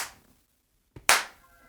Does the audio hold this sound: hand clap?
yes